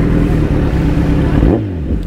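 A Kawasaki Z900 motorcycle engine revs close by, a loud sustained growl that rises and falls in pitch through a quick throttle blip.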